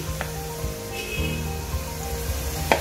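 Mango puree and mango pieces sizzling steadily in a hot spice tempering for a Ratnagiri Alphonso mango raita, a soft continuous crackle with a few faint clinks.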